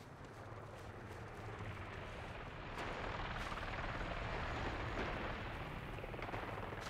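Military helicopter in Medal of Honor Warfighter, a loud continuous rotor roar that swells slightly midway, with bursts of distant gunfire and blasts mixed into the din.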